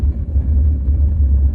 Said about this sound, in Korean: 30에서 내리막 제동 한번 해볼게요.